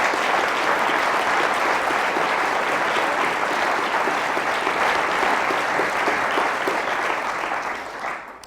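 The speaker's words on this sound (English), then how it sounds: "Let's give him a round of applause." Steady, full audience applause from a crowd at a conference event, dense clapping sustained for about eight seconds before fading slightly at the end.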